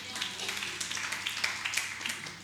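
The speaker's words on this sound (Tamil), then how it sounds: "நல்ல கைத்தட்டுங்க." Congregation at I.A.M Church in Walajabad clapping together, a dense patter of many hands with sharper claps standing out, moderately loud in a reverberant hall.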